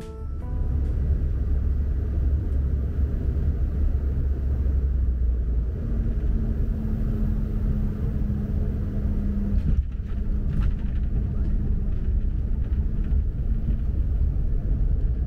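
Cabin of an IBEX Airlines CRJ 700 NextGen landing at Fukuoka, a constant loud low engine and airflow rumble with a faint steady tone joining midway, no talk.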